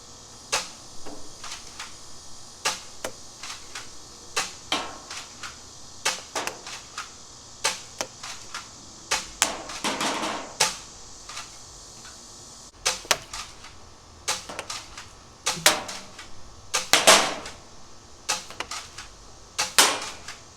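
A Gameface Prime dart blaster with an airsoft stock firing Dart Zone half-length darts, crisp sharp pops and mechanical clacks repeated at uneven intervals, some quick doubled shots, close and moderately loud.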